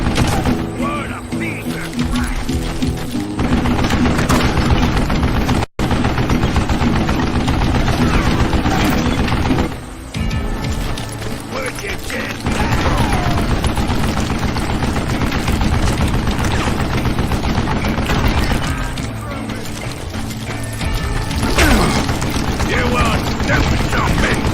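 Sustained heavy machine gun fire in the western shooter Call of Juarez, loud and continuous bursts that pause briefly twice, layered with clattering game effects and a dense mix throughout.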